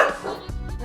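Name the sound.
dogs barking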